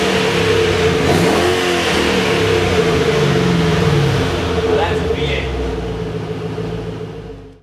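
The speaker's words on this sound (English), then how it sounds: "I just wanted to give you an indication of the sound you'll hear in this car." Ford Mustang GT engine revving loudly and close, a steady throaty roar that swells and sustains for several seconds before fading out at the end.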